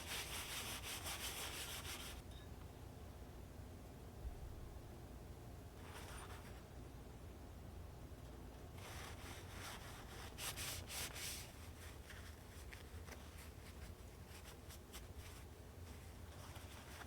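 Rifle metal parts and barreled action being wiped down with a cloth to remove excess oil, with continuous close rubbing and brushing strokes in bursts, louder at the start and in the second half.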